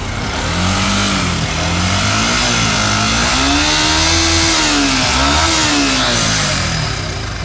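A motorcycle engine, freshly filled with oil during a tune-up done without disassembly, runs loud and close, its pitch swelling as it revs up, dipping, then climbing again in uneven surges.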